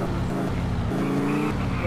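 A Lancer Evo 8 engine in a SAMP driving game mod on Android hums steadily at idle, with someone talking over it.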